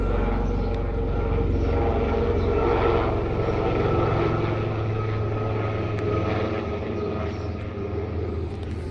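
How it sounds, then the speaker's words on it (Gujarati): A helicopter passes high overhead through the clouds without landing, giving a steady, loud droning rumble with deep low hum that holds for the whole stretch and eases slightly near the end. "અવારનવાર આવા હેલિકોપ્ટરો આવતા હોય છે."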